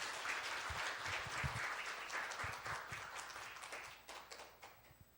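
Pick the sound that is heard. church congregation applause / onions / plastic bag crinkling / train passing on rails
church congregation applause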